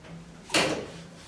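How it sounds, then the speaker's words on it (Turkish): The safety door of a press machine slides open in one quick scraping whoosh lasting about a quarter second, set against a low mechanical hum before and after. "Hareket ettirip kapıyı açmayı deneyeceğim ya da bu butonla."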